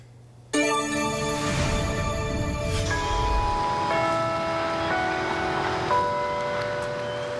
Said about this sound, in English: How much more chiming of the bells should we hear?